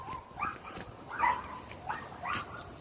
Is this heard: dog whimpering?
yes